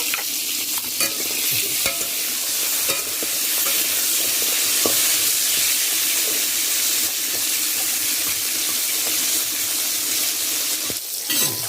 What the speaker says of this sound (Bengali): এবারে কাঁকড়াগুলো সব ভেজে নেব